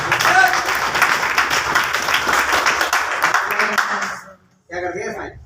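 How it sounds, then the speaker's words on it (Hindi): A crowd at a training seminar gives a long burst of loud, dense applause that runs for about four seconds, drops away to silence, then gives way to a voice speaking. "एक बार जोरदार तालियां।"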